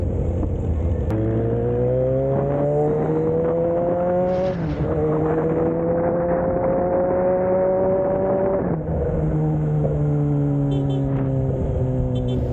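A Kawasaki ZH2 motorcycle engine revs and accelerates through several rising gear pulls, loud and close, with a brief shift drop in between and steady riding noise throughout.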